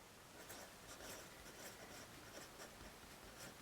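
Pen or pencil scratches across paper as budget categories are written out by hand, quiet close strokes in short repeated bursts with no talking.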